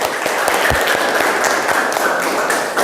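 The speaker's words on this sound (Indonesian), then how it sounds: "Tepuk tangan buat Zude." A classroom of students claps together, a dense, lively patter of hands at close range that holds steady throughout.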